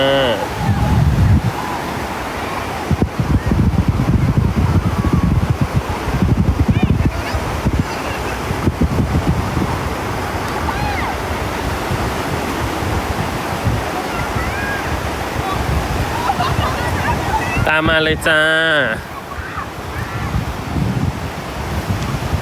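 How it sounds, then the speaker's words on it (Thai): Ocean surf roars steadily along the shore at Chao Lao Beach, Thailand, mixed with heavy wind buffeting the microphone, while someone speaks briefly and calls out. "คลื่นซัดเข้าฝั่งแรงมากเมื่อกี้"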